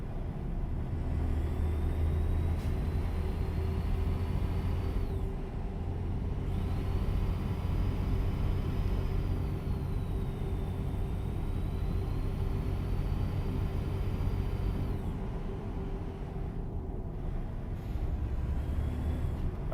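A modified truck in American Truck Simulator gives a deep, steady engine rumble that holds constant and loud throughout, with slight tonal shifts and no talking.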